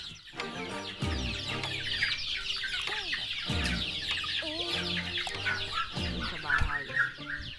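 Newly hatched chicks from a DIY incubator on a farm, peeping rapidly and continuously in a close chorus, with deeper clucking from an adult hen mixed in.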